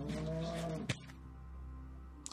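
A cow moos once in Minecraft, a steady, tonal game-animal low lasting about a second, followed by a short click and quiet background.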